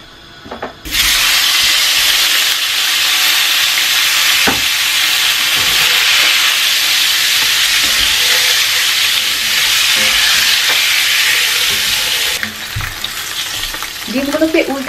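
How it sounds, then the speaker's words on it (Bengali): Hard-boiled eggs fry in hot oil for an egg and cauliflower curry, a loud, steady sizzle that starts abruptly, holds for about eleven seconds, then drops off with a few soft stirring knocks near the end. "এখন এগুলোকে ভালো করে ভেজে নেব।"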